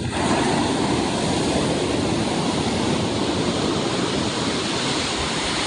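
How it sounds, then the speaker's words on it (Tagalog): Big ocean waves crash on a provincial shore where fishermen land rafts, a loud, continuous roaring wash of surf without pauses, up close. "Ayan na, malaking alon na naman yan."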